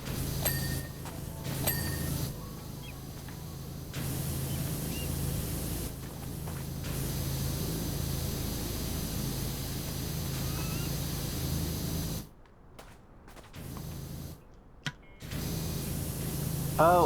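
A power washer sprays water in a video game, a steady hissing rush that runs for long stretches and drops out twice near the end.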